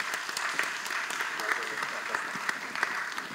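Audience at a social media week conference in Malaysia applauds a speaker, a steady moderate patter of clapping with a few louder claps.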